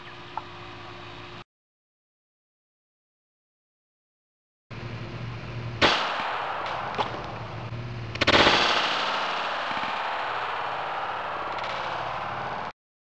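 Shots from a Taurus PT-92 9mm test pistol firing Winchester Silvertip 147 grain hollow points into a denim target, a few sharp loud reports amid nearby clatter and ringing, after a stretch of silence.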